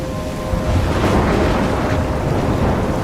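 A thunderstorm with heavy rain in the video game Life Is Strange, a loud continuous roar of rain and wind with low rumbling swells, no voices.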